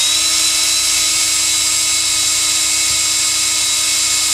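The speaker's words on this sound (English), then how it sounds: "If you're doing your drilling, do a little hole first." A high-pitched electric drill whines steadily as it bores a pilot hole into metal, a constant piercing tone close up with no talking.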